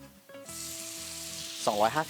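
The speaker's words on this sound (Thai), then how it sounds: "แล้วเราก็จะมาผัดกะเพราต่อเลยครับ ขั้นแรกใส่หมูลงไปนะครับ" About 250 grams of pork hits a hot pan for Thai stir-fried holy basil, bursting into a loud, steady close sizzle over a tonal background, with a stirring scrape near the end.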